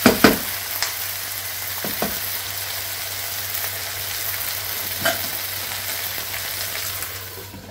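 Okra sizzles steadily as it fries in a pan, with a few sharp scraping knocks as it is stirred; close, continuous, and free of speech.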